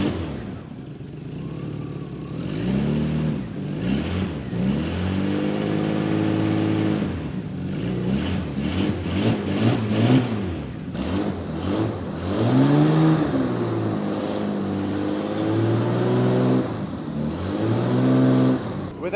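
Jaguar XJ6 Series III engine with a cracked-downpipe exhaust leak, idling and then revved repeatedly, each rise and fall of pitch clear and close, the leak giving a raspy, throaty edge.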